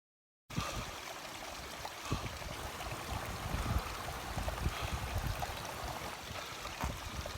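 A small mountain stream trickles and splashes over boulders in rugged glacial terrain in Patagonia, a steady, close rushing of water that starts abruptly and continues without pause, no voices.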